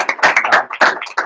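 Close, sparse audience applause for a guest at a seminar, a handful of sharp, uneven claps in quick bursts rather than a full crowd roar.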